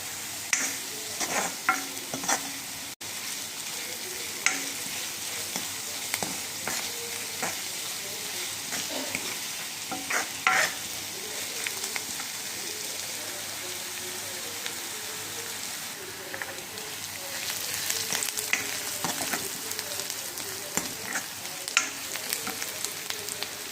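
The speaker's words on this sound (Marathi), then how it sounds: "त्यानंतर लसूणसुद्धा टाकलेला आहे कांदा आणि लाल होईपर्यंत आपल्याला परतून घ्यायचा आहे" Chopped onion and garlic sauté in a pan until reddish, making a continuous crackling sizzle with frequent light clicks and scrapes from stirring, all held at a moderate level.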